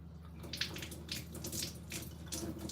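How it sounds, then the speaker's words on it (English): Water runs from a tap to be collected for testing, a steady soft splashing hiss that is fairly quiet and close, with no talking. "we're going to run the water and we're going to collect fresh water and test it"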